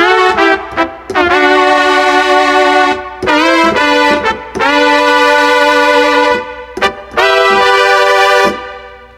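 Trumpet patch from a Korg Triton or Korg X-treme keyboard plays several loud, bright held brass notes in phrases broken by short gaps, alone and close.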